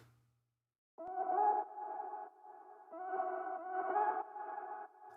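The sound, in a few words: vocal chop sound effect in a reggaeton mix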